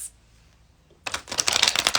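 After a near-silent second, a rapid riffle of cards being shuffled rattles close up, crisp and fluttering.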